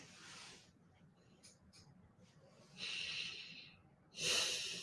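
Heavy breathing during a mantra meditation session, with soft breaths and two louder, rushing exhalations near the end, close and alone without talk.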